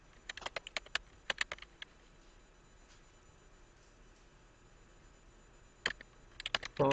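Computer keyboard typing, close bursts of quick clicking keystrokes at the start and again near the end, with a quiet pause between.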